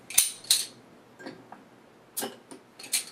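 A metal cap is pried off a bottle of Mothers Brewing Blush Pomegranate Hibiscus Wit Ale, giving a series of sharp, close clicks and ticks spread irregularly across a few seconds with quiet gaps between.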